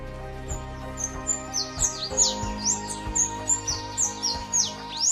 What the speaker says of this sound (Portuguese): a vocalização dele também é semelhante à vocalização de um canário da terra.